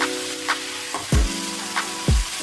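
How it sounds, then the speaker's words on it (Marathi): Chopped tomatoes and curry leaves fry in a few spoons of oil, a constant sizzle broken by several scraping stirs of a spoon against the pan, close and alone. "टोमॅटोला तेल सुटेपर्यंत ढवळून घेऊया"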